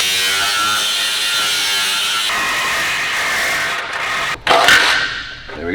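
Power tool cutting into the chassis of a Toyota AE86 during a Honda drivetrain swap, a loud continuous high-pitched grinding whine that shifts in pitch, briefly drops out, then surges again before winding down.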